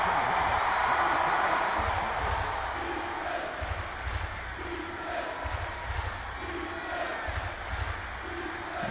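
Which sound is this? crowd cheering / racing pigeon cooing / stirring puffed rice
crowd cheering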